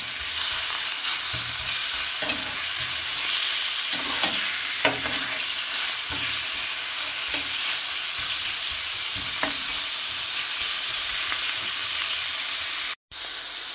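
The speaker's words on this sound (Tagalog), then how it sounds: "pwede na natin ilagay yung kanyang meat. Gigisahin natin yung meat." Meat sautés in a hot pan with browned garlic as the base for a vegetable chopsuey, sizzling steadily under intermittent stirring scrapes and clinks, with a sudden brief cutout near the end.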